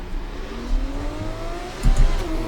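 Race cars in the F1 24 racing game at the China circuit roar past, with engine notes rising in pitch as they accelerate. A couple of louder whooshes surge close by, steady and continuous, with no talk.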